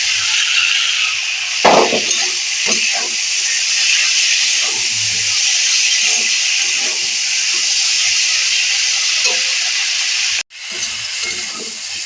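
Chopped tomato is dropped into potatoes frying in oil, giving a loud, continuous hissing sizzle. A few clattering knocks from the pan break through the sizzle, and it cuts off briefly near the end.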